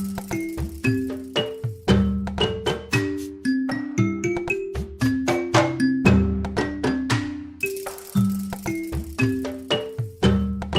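Orchestrion roll music from Final Fantasy XIV, a gentle bell-toned melody with plucked, chiming notes in a regular repeating pattern, clear and alone without talk.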